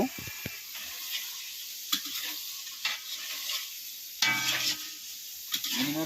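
Mixed vegetables frying in spiced masala in a kadai for a Bengali gota chochchori, with a steady sizzle broken by repeated scraping stirs of the spoon against the pan, close and fairly loud, with no talk.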